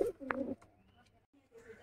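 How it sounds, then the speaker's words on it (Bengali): A red-necked Malbai-line pigeon, handled up close, gives a short low coo near the start, followed by quieter rustling and faint background noise. "এটা একটা লালশিরা মালবাই লাইনের পায়রা আছে"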